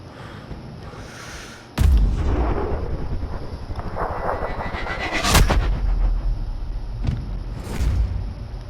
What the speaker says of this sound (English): 5 shots pretty quick